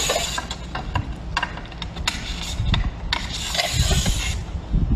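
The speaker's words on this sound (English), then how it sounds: "you will slide the cover back on" Metal cover sliding back onto a gate operator: a series of scraping, rubbing strokes with a few sharper clacks, close and moderately loud over about five seconds, no talking.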